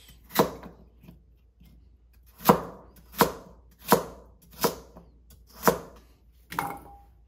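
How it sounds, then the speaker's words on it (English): Knife chopping a carrot into chunks on a cutting board while preparing Korean braised chicken, six sharp separate chops at uneven intervals, close and clear with no talk. "carrot, cut in half, another half or so cut into chunks."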